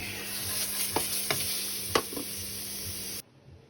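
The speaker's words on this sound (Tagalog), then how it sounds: "Lutuin muna natin yung giniling." Ground meat sautés in a hot pan, a steady sizzle broken by a few sharp stirring clacks before it cuts off abruptly into near silence; no one speaks.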